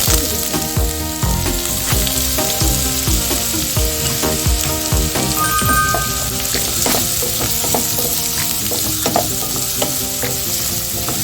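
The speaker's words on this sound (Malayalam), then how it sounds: "ഇനി നമുക്ക് ഈ സവാള അരിഞ്ഞത് വാട്ടിയെടുക്കാം." Chopped onion sautéing in the oil left from frying meat, for chicken fried rice. A loud, continuous sizzle sounds close up, broken by the repeated scrape and clink of stirring.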